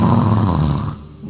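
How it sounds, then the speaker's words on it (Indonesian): A person snores with one deep, rasping inhaled rumble up close, trailing off into quiet at the end. "Ngorok dia."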